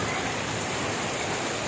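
Heavy rain falls in Kuala Lumpur, a loud, dense and unbroken wash of drops hitting surfaces nearby, with no talk over it.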